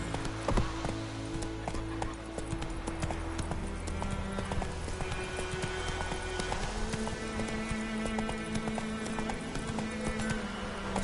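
Galloping horse in The Witcher 3, rapid rhythmic hoofbeats pounding steadily and close, layered over continuous game ambience and music.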